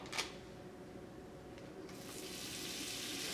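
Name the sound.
butter melting and sizzling in pan with shrimp bits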